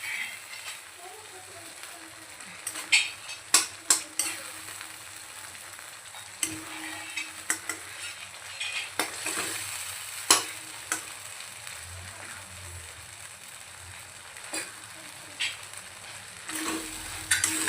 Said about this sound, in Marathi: आपल्याला छान असा हलवून द्यायचं परतून द्यायचं